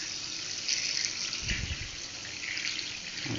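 Hot water runs steadily from a tap, a constant hissing splash with a brief low gurgle midway.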